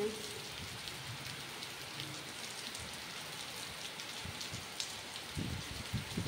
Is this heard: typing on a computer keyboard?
no